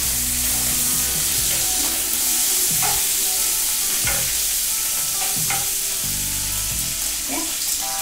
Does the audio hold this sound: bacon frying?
yes